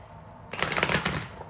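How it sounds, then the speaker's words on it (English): A quick riffle of Rider-Waite tarot cards being shuffled, a short burst of rapid papery flicks lasting about a second. "3 more shuffles."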